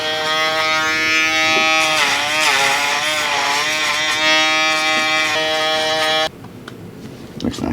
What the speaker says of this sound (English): I'm using my Babyliss shaver, and I'm just gonna go right above that guideline and just bald that out